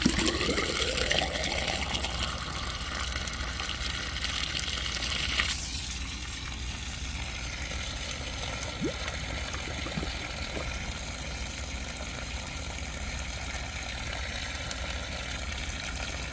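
Water gurgling and trickling through airlocks in an AC drain line, a steady close liquid rush with faint bubbling and no talk.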